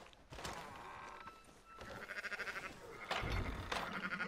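A flock of sheep in Red Dead Redemption 2 bleats in repeated wavering calls, some overlapping and fairly close, rising in loudness toward the end, with a soft outdoor background.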